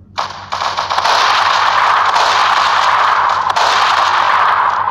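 Dense, continuous gunfire in the Roblox-style video game Prison Life, loud and sustained with sharp cracks layered throughout, no talking.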